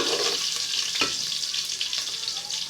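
Onions sizzle steadily as they fry in a pot for yam porridge with beans, a continuous close hiss with a brief stir near the middle and no voices.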